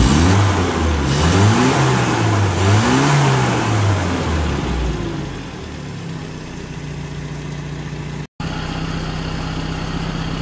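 A Mini car engine revs up and down several times, loud and close, then settles into a steady idle hum.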